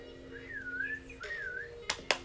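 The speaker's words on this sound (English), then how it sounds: "Pardon me while I whistle for my dog." A person whistles for a dog outdoors with two short rising-and-falling whistles, followed by two sharp clicks or claps, fairly faint.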